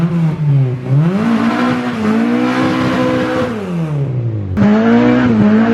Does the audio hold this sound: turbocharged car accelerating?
yes